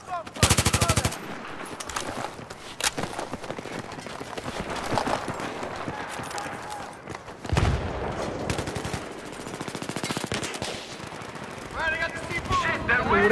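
Gunfire in the video game Battlefield 3: loud bursts of automatic fire and single shots in rapid rhythmic strings, with battle noise between them and a voice talking over the action.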